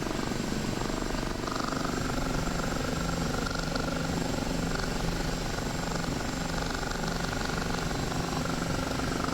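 Steady, dense rotor thrum and turbine whine of a Kiowa helicopter in the DCS flight simulator as it taxis very slowly to a landing, continuous and loud with no variation and no talking.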